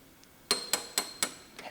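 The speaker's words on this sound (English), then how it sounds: "And now we can knock all our spot welds out." Spot welds are knocked out of a Lexus RX330 car body: four sharp, ringing metal strikes land at an even, quick rhythm, close and clear, with a lighter tap after them.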